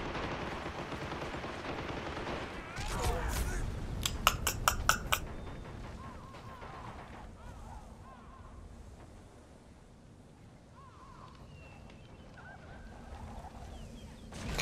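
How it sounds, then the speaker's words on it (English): Mortar fire in the strategy game Emplacements during a 2v2 match: a cluster of rapid cracking reports and booms mid-clip over a rumbling battlefield bed, then distant thuds and scattered impacts fading into low ambient noise. "What's that? Mortar? Just the mortar."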